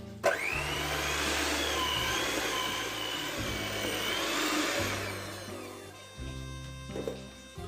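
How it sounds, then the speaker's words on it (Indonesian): A hand mixer kneads soft donut dough in a steady, loud continuous whir that holds for several seconds, then drops in pitch and stops as the motor is switched off near the end. "cara mixer adonan donat dengan menggunakan hand mixer"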